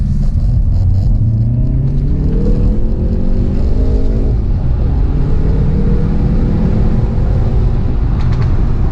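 A Hyundai i30N accelerates through the gears, its engine and exhaust making a loud, continuous rumble that rises in pitch with each pull, with a few brief crackling pops from the exhaust.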